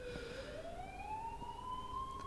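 Rising electronic ambulance siren from the video game The Coma: Recut on Nintendo Switch, a steady wail sweeping upward and holding, loud and continuous throughout with no talk.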